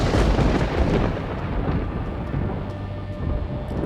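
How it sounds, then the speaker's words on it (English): A loud thunderclap in the video game Everlasting Summer, a heavy rumbling crash that stays dense and rolling for several seconds, with a rain-like hiss mixed in and no voices. "It sounded like a thunderclap."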